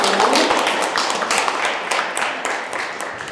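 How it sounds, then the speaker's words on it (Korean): A book-talk audience at a literary festival claps as the session wraps up: many hands in a brisk, crackling patter that starts strong and slowly thins and softens. "박수로 마무리하시고"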